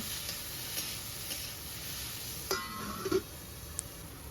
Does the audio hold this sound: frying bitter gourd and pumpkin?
yes